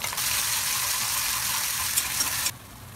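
Hot oil sizzling as mustard seeds, cumin, curry leaves and ginger-garlic paste hit the pan for a tempering, a loud continuous frying hiss with a few pops that drops off abruptly near the end.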